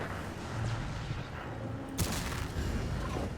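A tank cannon shot in World of Tanks fires once as a loud, sharp boom about two seconds in, standing out against a steady background of battle rumble and distant gunfire.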